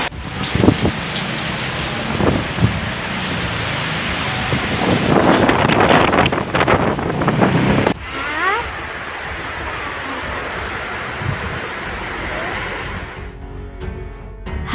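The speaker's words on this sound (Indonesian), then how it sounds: "Hujan deras yang disertai dengan angin kencang melanda ibu kota Jakarta pada malam tadi" Heavy rain driven by strong wind sweeps over Jakarta at night, a dense roaring wash with gusty rumble buffeting the microphone, easing partway through to a softer patter.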